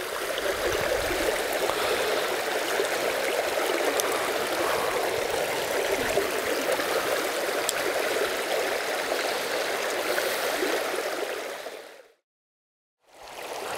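Rapids on a forest river rush and churn in a loud, steady wash of water close by, continuing without pause until a sudden brief silence near the end before the flow resumes.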